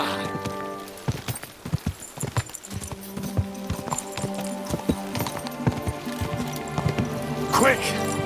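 Horse hooves clip-clop in an irregular gallop in the video game Kingdom Come: Deliverance 2 while people talk over them, with a horse's whinny rising near the end.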